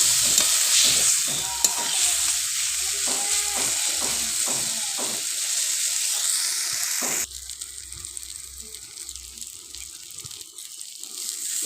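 Jackfruit seed curry masala with Kashmiri chili powder, turmeric and salt is stirred in a hot pan: a loud sizzle with rhythmic scraping strokes for several seconds, then an abrupt drop to a quieter, steady hiss.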